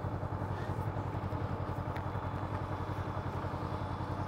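A motorcycle putters slowly around a low-speed training course, its engine giving a steady, rhythmic mid-pitched thrum at close range with no clear talk.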